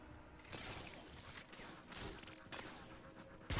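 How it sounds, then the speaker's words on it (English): Faint, quick volleys of gunfire in Warframe as Mesa shoots down enemies, several bursts of shots at an even, muffled level under a steady bed of game noise, with one sharper hit at the end. "let's go ahead and shoot a couple of these enemies down"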